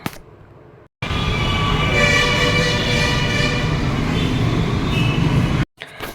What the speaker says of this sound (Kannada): ಸೊ ಎಮ್ ಜಿ ರೋಡ್ವರೆಗೆ ಹೋಗುವ ಅಂತ ಹಿಂಗೆ ಮೆಟ್ರೋದಲ್ಲಿ ಹೋಗ್ತಾ ಇದೆ.